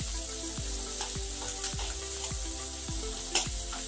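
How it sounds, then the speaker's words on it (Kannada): Onions frying in hot oil in a pan while cooking masala dosa filling, a steady close sizzle with regular scraping stirs of a spatula, no talking. "ಈರುಳ್ಳಿ ಚೆನ್ನಾಗಿ ಹೀಗೆ ಮೊದಲು ಎಣ್ಣೆಯಲ್ಲಿ ಫ್ರೈ ಆಗಬೇಕು ಸ್ವಲ್ಪ"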